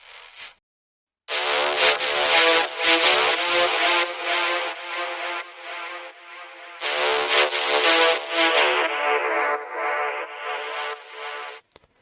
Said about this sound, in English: I also added a very cool lead from Splice.